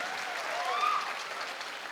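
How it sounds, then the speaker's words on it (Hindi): An audience at a public event in Lucknow breaks into a short burst of steady applause, moderately loud and alone. "सर के लिए भी जोरदार तालियां होनी चाहिए।"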